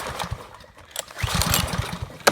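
A small engine on a Murray machine, left on choke, sputters through a few short rough firing bursts that never catch into a steady run; the sound is close and moderately loud.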